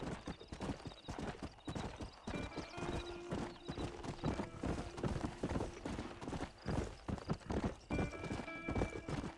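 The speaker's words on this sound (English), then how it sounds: "Enquanto o cavalo fica me perseguindo agora" A horse in the Red Dead Redemption video game gallops with rapid, loud hoofbeats and lets out a few whinnies, heard on its own without speech.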